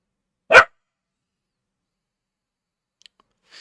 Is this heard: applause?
no